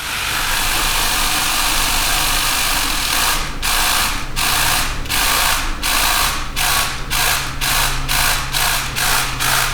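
A vibrating motor drives an acoustic white noise machine of resonating bowls, first as a dense continuous buzz, then switching to rapid regular on-off pulses that quicken toward the end, loud and close.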